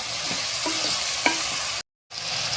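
Native tomatoes with spice powders sautéing in a pan make a close, steady sizzle with a few soft spatula scrapes, then cut off into brief silence before the frying hiss resumes.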